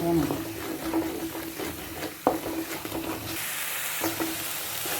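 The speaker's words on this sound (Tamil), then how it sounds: "இந்த பச்சை மிளகா வெங்காயம் பூண்டு இந்த பச்சை வர" Green chili, onion and garlic sautéing in a pan with a soft continuous sizzle, broken by scrapes and taps of stirring, heard close beneath a woman's speech.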